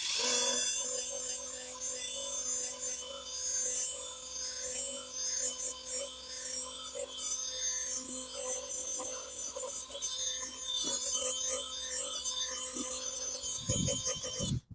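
An SPTA mini polisher runs at speed 3 with polishing compound, a steady high electric whine with a humming motor tone that holds continuously up close, slight shifts in pitch as the pad works, ending with a brief clatter.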